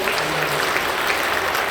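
A church congregation at Incheon Suwon Happy Harmony Church claps steadily, a dense, even patter of applause lasting throughout with no break.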